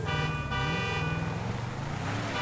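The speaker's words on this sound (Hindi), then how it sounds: "साउंड तो भाई जो हॉर्न वगैरह है वो तो रियल वाली जैसा ही है।" Toyota Fortuner horn in an off-road driving video game, one sustained honk held steadily for about two seconds over a low engine drone, loud and close.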